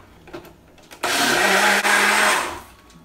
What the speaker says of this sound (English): Dylan got this little blender guy for Christmas.